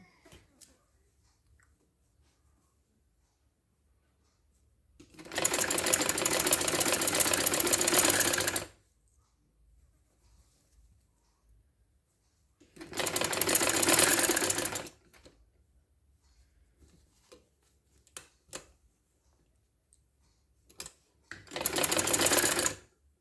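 A sewing machine stitches a kameez in three bursts of fast, buzzing whir. The first runs about three seconds, the second about two and the third is short. Quiet handling noises fill the gaps between them.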